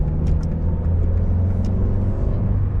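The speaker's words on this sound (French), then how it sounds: "Dès qu'on accélère un petit peu, voilà, il y a ce bruit moteur caractéristique malheureusement" Renault Megane 1.6 16V RXT from 2000, engine droning steadily under light acceleration, heard from inside the cabin as a close, continuous low hum with a faint rising whir.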